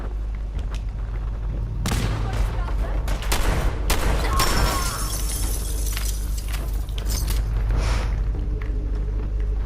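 Fallout 4 combat: a grenade blast and bursts of gunfire crash through from about two seconds on, loud and dense, with booms, debris and crackling shots layered over a constant low rumble of game ambience.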